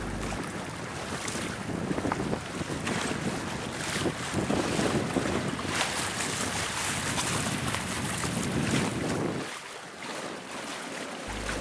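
A sailboat running in a strengthening wind off Bute and Arran: continuous loud wind rush buffeting the microphone and hissing water along the hull, easing briefly near the end.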